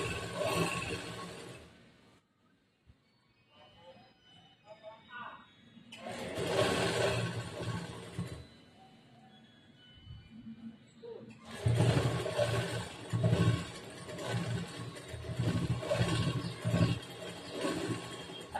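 A sewing machine stitching a petticoat blouse runs in bursts of rapid whirring stitches separated by pauses, close and moderately loud, with brief quieter handling noises between runs.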